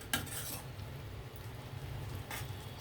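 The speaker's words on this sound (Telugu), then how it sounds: "సిమ్లోనే ఉంచి మూత పెట్టి మగ్గిస్తూ మధ్య మధ్యలో ఇలా కలపాలండి" A spoon stirs gongura leaf pickle with dried prawns in a pan over low heat, giving two short metallic scraping bursts over a quiet, low background hum.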